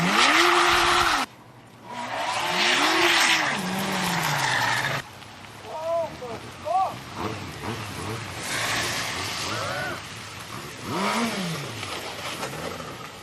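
A motorcycle's rear wheel skids and squeals in the Fast Bikes racing game, with a Suzuki Hayabusa or Kawasaki ZX-12R engine droning and swooping in pitch. Repeated curving tire squeals sound close and loud, with brief gaps and no talking.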